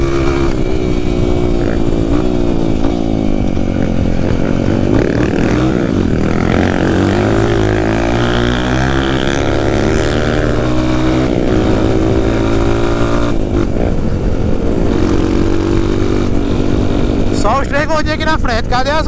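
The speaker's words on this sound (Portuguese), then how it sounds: "A 250 só quer acelerar quando tem um estradão, é?" Honda CRF 250 dirt bikes ride a trail, with loud, continuous engine drone shifting pitch as they accelerate, plus bursts of revving near the end.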